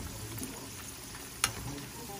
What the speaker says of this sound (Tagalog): Piniprito daw yung patatas para hindi siya malansa.